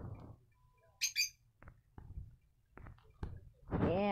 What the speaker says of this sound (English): It's a good chicken.